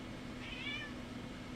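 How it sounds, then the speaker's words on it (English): A single short cat meow rises and falls faintly indoors, over a low steady background hum. "I don't know if you heard a cat meowing or not"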